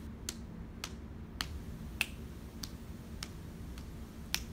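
A clap pattern for the song Simama Ka, heard as sharp, bright claps or snaps spaced at a steady, moderately slow pulse, about eight in a row against a quiet background with no voices.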